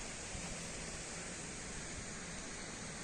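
A waterfall on a family outing near Kolhapur gives a steady, dense roar of rushing water that stays even throughout, with no voices over it.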